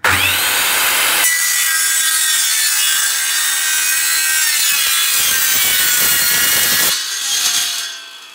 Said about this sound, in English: I just want to cut through so you guys can see how easily it cuts this setup.